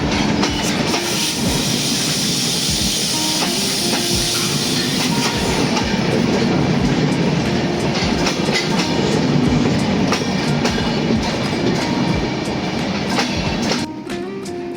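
Trains at Dinajpur railway station as another train passes during a crossing: a loud, continuous rumble of wheels with rhythmic clickety-clack and occasional squeal, close by, easing slightly at the end.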